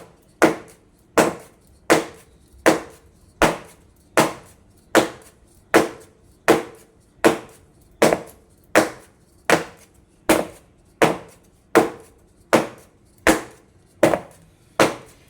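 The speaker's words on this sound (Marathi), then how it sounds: "आधी ह्याला टॅपिंग करून घेऊया." A buttered cake tin holding banana cake batter is tapped against a surface about twenty times in an even rhythm, each knock sharp and close, with quiet gaps between the taps.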